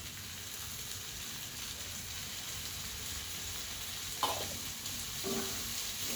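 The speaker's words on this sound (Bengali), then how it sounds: "এবার সবগুলো আমি ভালো করে ভেজে নিচ্ছি।" Tomato, grated ginger and capsicum fry in a pan, giving a steady, close sizzle with a couple of soft stirring knocks near the end; no one speaks.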